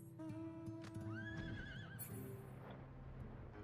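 A horse in Final Fantasy XIV gives a short, bright neigh with a wavering whinny, over soft game background sounds.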